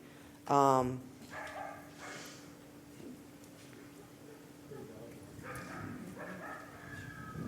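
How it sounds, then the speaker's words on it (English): A coyote gives a short burst of barking yips, rising in pitch, then a few softer calls further on in an outdoor setting where coyotes and black bears roam, with light background noise between. "Is that a dog or coyote? No, this is coyote."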